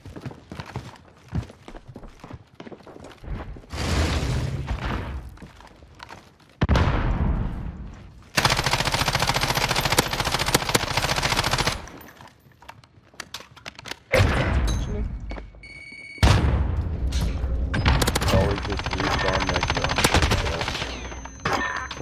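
FAMAS rifle fire in a video game comes as loud, close automatic bursts separated by short gaps, with a player talking in the quieter stretches between volleys.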